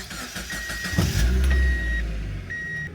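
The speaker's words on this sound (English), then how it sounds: "I kick over the car" A Mazda Miata NB MX-5 engine cranks and fires up after timing belt and water pump replacement, a short starter whir then a low idle settling in, with a chime beeping intermittently nearby.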